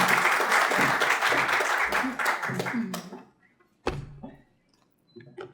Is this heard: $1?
no